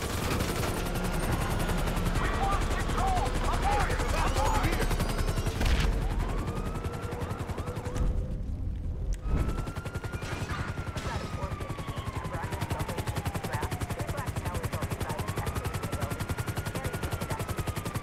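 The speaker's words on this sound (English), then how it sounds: "We ain't going nowhere with that chopper on us!" Helicopter and bursts of automatic gunfire in the Grand Theft Auto V video game, loud rapid shots over a droning rotor with crashing impacts and a brief pause midway.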